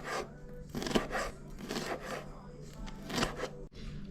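A knife chops vegetables for ceviche on a cutting board, a run of close, quick rhythmic chops in short bursts, with no talk.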